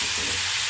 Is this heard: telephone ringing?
no